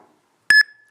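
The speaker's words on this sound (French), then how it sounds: "vous allez avoir un petit bip." A single short electronic beep as an iPhone app scans a product barcode, clear and close, with a steady tone tailing off in an otherwise quiet clip.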